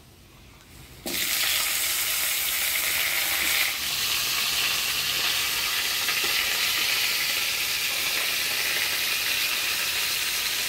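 Cut potatoes drop into hot tempered mustard oil with dried chilli and begin a loud, steady sizzle in the pan, while Malabar spinach stems fry alongside. After a quiet start, the frying stays constant and close for the rest of the stretch.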